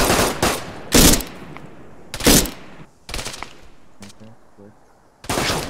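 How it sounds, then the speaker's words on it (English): Machine gun fire in the video game Arma 3, loud close bursts of rapid automatic shots spread through a few seconds with brief gaps between them, and some faint talk between bursts. "What a recoil on the weapon."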